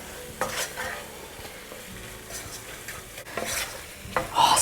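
Pav bhaji masala being stirred into a vegetable kadhai pulao in a hot pan, with a utensil scraping in short bursts over soft continuous sizzling, close up.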